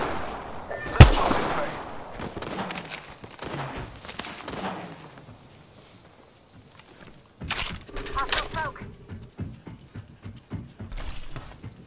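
Gunfire in the battle royale game Apex Legends: a sharp loud shot early on, then ragged bursts and clattering reports with a quieter stretch before another run of rapid close shots.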